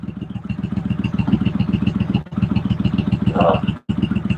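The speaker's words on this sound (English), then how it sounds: "That's a warm engine that's warming up to check the oil." A warm Harley-Davidson touring motorcycle engine idling with a steady loping rhythm, close and loud throughout, with a brief dropout near the end; faint voices may sit underneath.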